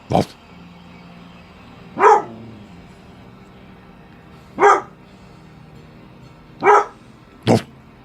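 Dog barks from a pet ring out one at a time, five sharp loud yaps spaced a couple of seconds apart over a quiet room hum, with no talking between them.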